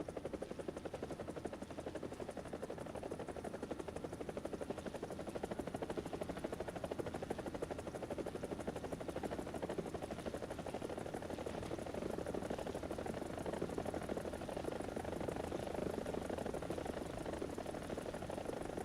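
Helicopters in a naval combat video game on the Explorer Sweden custom map, a steady continuous rotor drone holding at a moderate level throughout with no talk.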